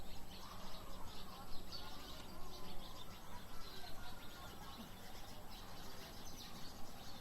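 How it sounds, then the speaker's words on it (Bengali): Pigeons and other birds in a village on a late afternoon, faint calls and coos mixed into a steady wash of outdoor ambient noise throughout. "এই যে কবুতর,"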